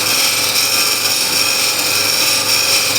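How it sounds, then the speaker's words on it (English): A wood lathe runs continuously while a refiner scraper cuts the spinning wood, giving a steady loud hiss and whine with rasping texture throughout. "So let's turn on the lathe."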